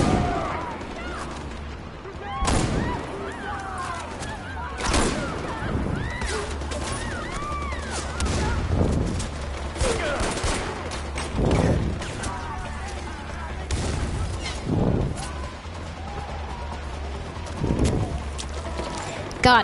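Assault rifle fire in Far Cry 4 rings out as repeated loud bursts of shots and booms every couple of seconds, mixed with other game sounds and voices.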